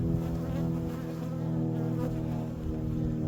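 Bees buzz around a hive, a steady droning hum of many insects close by, continuous and fairly loud, with no one talking.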